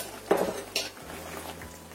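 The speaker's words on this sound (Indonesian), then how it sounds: "Ini aku agak tusuk-tusuk pakai garpu kayak gini" A couple of light metallic clinks as a fork pokes at frying eggs in a pan, over a faint sizzle.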